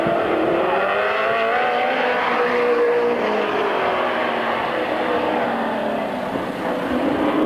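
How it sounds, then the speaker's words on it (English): Super late model race cars at Midvale Speedway in 1994, a loud continuous roar of several engines racing together, with pitch rising and falling as the pack moves, no voices. "Getting ready for the super late model fast heat."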